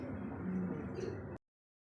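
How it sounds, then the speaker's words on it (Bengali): A pair of racing pigeons gives a brief, low, close coo lasting just over a second, then falls silent. "আর এক জোড়া রেসার কবুতর"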